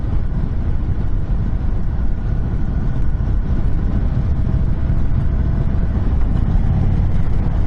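A 2022 Indian Chief motorcycle rumbles steadily while being ridden, its low engine drone mixed with heavy wind rush across the microphone, with no talking.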